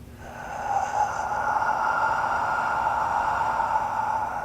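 During breathwork practice a single forceful exhalation rushes out, close and breathy, and swells into a long, steady airy hiss that lasts several seconds. There is no speech.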